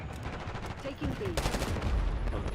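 Gunfire in Call of Duty Black Ops 6 beta multiplayer, dense rapid shots blending into continuous noise, growing louder and heavier toward the end over game ambience.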